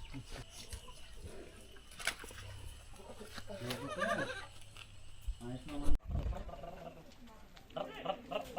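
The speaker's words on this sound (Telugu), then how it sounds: "మేమే మేకపిల్ల." A baby goat at a rural country-chicken hen farm bleats in short repeated calls, mixed with nearby voices and farmyard noise.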